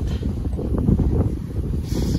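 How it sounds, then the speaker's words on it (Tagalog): Steady, rough wind buffeting the microphone at a winter beach, with a dense low roar throughout, no voices. "Grabe ang hangin dito."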